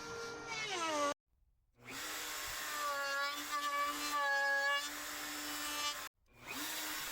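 A handheld router shapes and rounds the edges of a thick elm board for a swing seat, with two sustained whining cuts separated by short silent pauses and a brief spin-up at the end.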